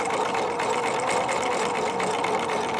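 A Husqvarna Viking 950 sewing machine stitching slowly at a quiet speed, giving a steady, continuous close-up whir and rapid needle clatter with no pauses.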